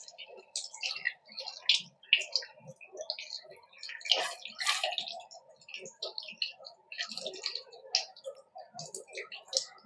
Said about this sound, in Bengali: এখন মাছটাকে ভালো করে ধুতে হবে